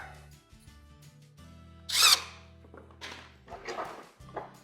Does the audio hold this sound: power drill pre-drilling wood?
yes